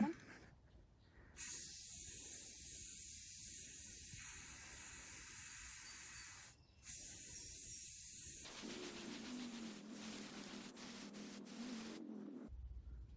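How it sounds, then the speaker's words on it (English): An aerosol spray can sprays in long continuous hissing bursts, held about six inches from the surface being coated, close and steady with a short pause midway, while people talk quietly. "If you want to, you can hold it straight up and down, and then you can spray towards the top that way."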